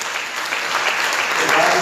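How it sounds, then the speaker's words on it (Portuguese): Loud, sustained applause from a church congregation, a dense wash of clapping that fills the space evenly throughout. "Você pode dar um aplauso a Jesus?"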